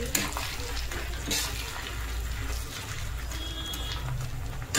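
Garlic frying in oil in a pan with fish heads and bay leaf, a steady close sizzle with occasional stirring clatter, no talking.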